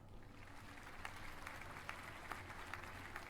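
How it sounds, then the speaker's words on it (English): Steady applause from a crowd, many hands clapping together at a moderate distance, continuous throughout with no pauses. "What's the clapping for?"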